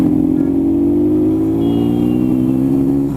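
A Rajdoot 350 motorcycle engine pulling away, a loud steady mid-pitched drone that rises slightly in pitch as it accelerates, close by with no talking.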